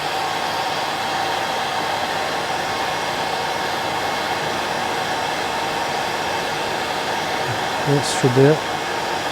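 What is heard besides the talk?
hairdryer blowing on a fly-tying nymph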